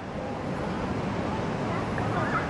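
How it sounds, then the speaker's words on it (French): Rough sea waves wash steadily under strong wind noise on a choppy day, a continuous close broadband roar with no clear breaks. "Il y a encore des vagues, hein. La mer est encore agitée."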